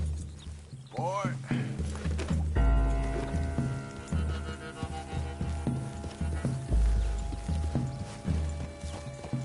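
Horse hooves clip-clop at a steady walking rhythm in Red Dead Redemption 2, close and clear, with game music and someone talking over them.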